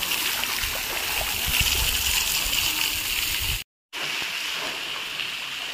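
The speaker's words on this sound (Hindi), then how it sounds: "पानी भर रहा है, ठंडा है पानी" Water splashes and sloshes steadily in an outdoor water park pool, a broad continuous wash with a brief dropout near the end and faint voices mixed in.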